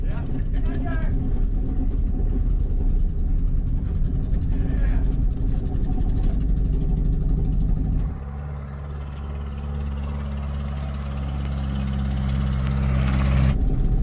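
A Ford Festiva engine running on just one cylinder, a rough, lumpy idle with voices over it for the first half, then settling into a steadier, quieter drone with lower clatter.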